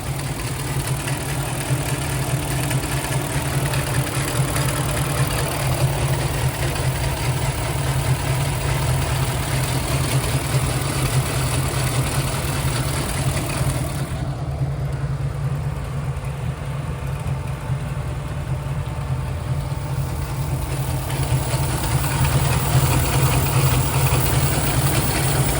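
A 1980 Alfa Romeo Alfetta GTV five-speed manual fitted with an Alfa Romeo Montreal V8 idles steadily up close, its low engine drone joined by the continuous whir of running belts throughout.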